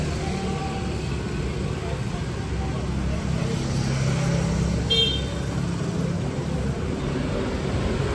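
Busy street traffic on Boracay's main road, a constant dense wash of engine rumble and passing vehicles at night with a horn toot around the middle, nearby voices mixed into the din.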